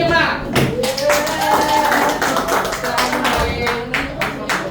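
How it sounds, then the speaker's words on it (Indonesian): Scattered hand clapping from a small classroom group after a presentation, uneven and patchy, with voices talking over it throughout. "tepuk tangan untuk kelompok 5"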